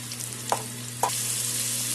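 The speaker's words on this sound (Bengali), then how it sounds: "আলুটা ভাজা হচ্ছে" Potatoes frying in a pan with turmeric and salt give a steady close sizzle, with two brief stirring scrapes partway through.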